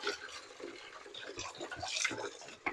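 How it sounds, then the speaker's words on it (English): Water runs steadily into a kitchen sink holding vinegar for soaking vegetables, a continuous close splashing and trickling with no voices. "So I'm just putting them in my sink with some water and vinegar."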